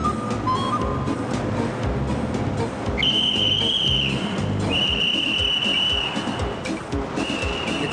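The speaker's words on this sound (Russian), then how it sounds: "Этот милиционер нам свистит." A Soviet militia officer's police whistle gives sharp, shrill blasts, one brief and several long, over the rumble of traffic and a moving vehicle.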